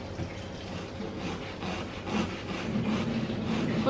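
Kitchen knife slowly sawing through recycled cardboard, a steady close scraping and rasping that grows slightly louder toward the end, with no talking.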